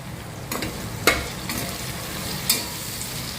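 A green chilli, coriander and mint paste fries in oil for biryani, a low, steady sizzle with a few sharp clicks of a spoon stirring against the pan and no talking.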